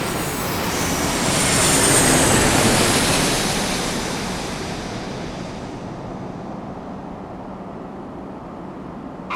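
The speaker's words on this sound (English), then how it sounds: "Here is the huge Airbus Beluga coming in to land from Toulouse." A model Airbus Beluga cargo plane landing at a miniature airport, a steady broadband engine roar that swells and then slowly fades, heard alone and fairly loud.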